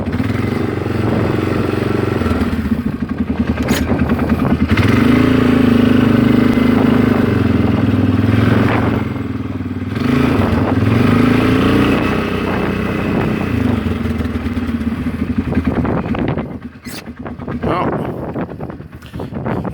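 A Polaris Sportsman 500 ATV idles nearby with a steady loud engine drone and some wind buffeting on the microphone, briefly dipping near the end. The machine has a flat front tire and has been giving trouble after a rollover.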